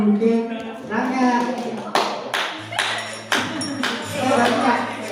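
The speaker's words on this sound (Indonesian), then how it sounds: "Tepuk lilinnya sekarang." A group of students at a school Red Cross orientation and anniversary event claps a patterned 'tepuk lilin' rhythm, bursts of sharp claps separated by brief pauses, with talking and voices under the claps.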